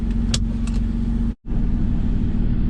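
A Porsche Boxster 987 fitted with a modified exhaust idles while not yet warmed up, giving a loud, steady, close low rumble that cuts out very briefly midway and then resumes.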